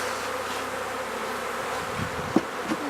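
A swarm of honeybees buzzes steadily and fairly close throughout, a dense continuous drone with a couple of brief louder knocks near the end.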